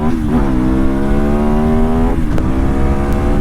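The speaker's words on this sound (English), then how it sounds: "All right, so let's just give her a run here." A 2017 KTM 1090 Adventure R motorcycle with an Akrapovic performance exhaust accelerates hard. The loud, close engine note climbs steadily in pitch, then breaks off at a gear change and carries on roaring.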